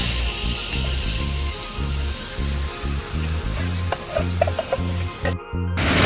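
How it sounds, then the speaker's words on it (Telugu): Masala-coated fish pieces sizzle loudly in a pan over a camp cooking setup, a continuous frying hiss with a thudding, rhythmic low stirring pulse beneath it. A short dip in the sizzle comes near the end, and no voices are heard. "ఆ మసాలాలు కలిపిన ఫిష్ అంతా దాంట్లో వేస్తున్నావా?"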